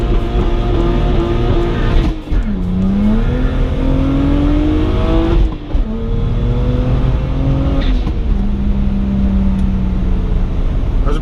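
A BMW 135i launches hard and pulls through the gears, its engine roaring loud and close from inside the car and climbing in pitch with brief dips at each upshift across sustained acceleration.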